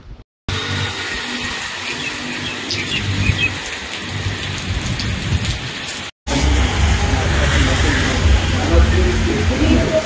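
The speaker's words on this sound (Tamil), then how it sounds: "மிதமான மழை பெய்து வருகிறது." Moderate rain pours steadily over the Aravakurichi, Pallapatti, Rengaraj Nagar, Velambadi and Thadakovil area. Deep thunder rolls low and heavy beneath a dense, constant hiss, with one brief dropout midway.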